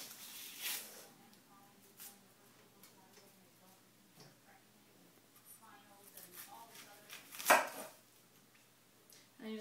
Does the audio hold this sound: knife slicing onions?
yes